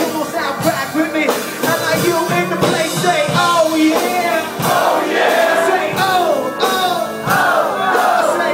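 A live crowd at a hip-hop freestyle show yells a chant back in unison, loud and close, with repeated surging shouts over a rhythmic backing.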